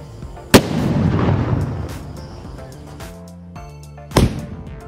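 A box of ten sutli firecrackers set off for Diwali, with two sharp, loud blasts a few seconds apart, the first followed by a rumbling tail.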